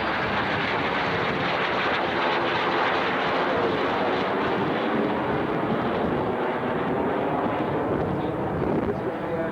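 An aerobatic aircraft pulls into a vertical climb along the display axis at the Shoreham airshow, its engine a loud, continuous rushing roar under a commentator's voice.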